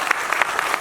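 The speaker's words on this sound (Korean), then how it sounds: "박수 한 번만 더 주세요." Audience at a book concert in Ansan applauding, a short burst of dense clapping from a crowd with a few sharper individual claps standing out.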